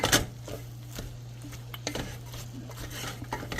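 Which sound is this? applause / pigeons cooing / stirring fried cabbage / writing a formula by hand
stirring fried cabbage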